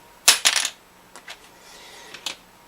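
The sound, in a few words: tapping a tusq guitar saddle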